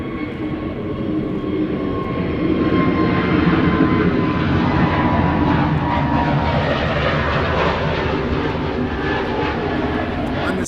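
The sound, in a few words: airplane taking off or landing at Gibraltar airport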